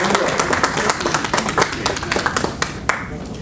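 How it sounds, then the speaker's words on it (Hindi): Audience clapping in welcome for the cast of a short stage play, a dense burst of many hands with sharp individual claps standing out, steady and fairly loud throughout. "आप लोगों से अनुरोध करेंगे कि एक जोरदार ताली से हमारे कलाकारों का स्वागत करें"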